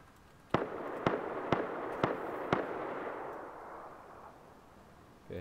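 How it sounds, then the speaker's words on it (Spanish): Gunshots in the video game Rust: five sharp, evenly spaced reports crack about half a second apart, each trailing into a lingering rumbling echo, somewhat distant and fairly faint. "¿Qué es esos disparos?"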